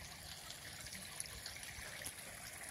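Irrigation water running steadily through a field of eggplant and chickpea plants, a faint continuous trickling and gurgling flow heard outdoors with no talking.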